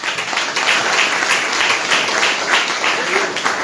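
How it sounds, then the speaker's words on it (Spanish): Church congregation at an early-morning service clapping hands loudly, a steady dense wash of applause-like clapping filling the room throughout, with faint voices underneath. "Denle fuertes palmas a que Dios."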